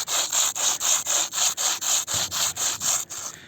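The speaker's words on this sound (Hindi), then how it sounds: "जब हम इसको घिसते हैं तो कुछ ऐसी आवाज़ आती है" Two hilna stones from an Aravalli hillside rubbed together in quick back-and-forth strokes, giving about twelve evenly spaced, bright scraping rasps, close and loud with no speech.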